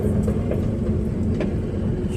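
A 1982 GMC square body truck drives up a driveway, a steady close engine rumble and road noise rolling on without pause, with no voices.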